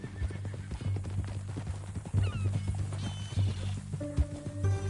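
A horse in a PS4 western video game neighs and whinnies, with hooves clip-clopping throughout and a few sharp louder steps, set against a steady low game soundscape with no talk.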